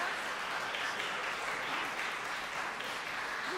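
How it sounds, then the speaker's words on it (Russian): Audience applause at a concert ceremony in a junior music college hall, a dense steady clapping from a full room with no talk, held evenly throughout. "Под аплодисменты."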